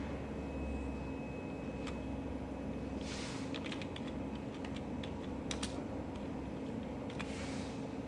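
Keys clatter on a computer keyboard near a Waters isocratic HPLC instrument, coming in short irregular bursts over a steady background hum, quiet and close by, with no speech.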